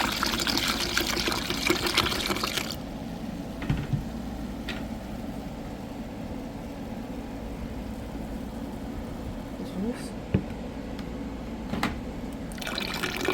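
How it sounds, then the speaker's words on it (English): Apple juice poured into a fall punch over ice and apples, a loud gushing stream for a couple of seconds that gives way to faint trickles and small clinks, up close. "Add in the apple juice."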